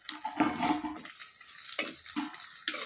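Chopped onions and two small tomatoes being sautéed in a pan for a village-style stingray fish curry, with scraping stirs and a light sizzle in short bursts, close and moderately loud, no talking.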